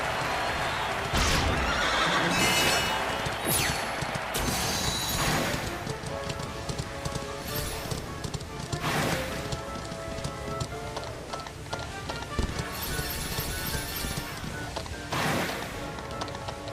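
Horses neigh and gallop with clip-clop hooves during a horse race in the video game Dragon Quest XI, several loud whinnies over a steady drumming of hooves, no voices.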